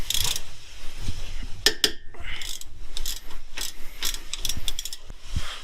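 A ratchet clicks in quick bursts while loosening 14 mm brake caliper bolts on a 2004 Honda Odyssey front brake, with close metallic clatter and tool handling between the runs.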